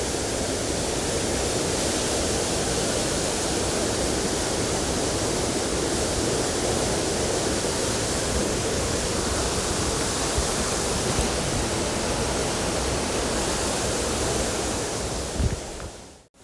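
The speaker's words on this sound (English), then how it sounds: "you can see the waterfall gushing down there into the gorge itself" A waterfall gushing down into a rocky gorge makes a loud, steady broadband roar that runs continuously on its own, with no voices, and cuts off only at the very end.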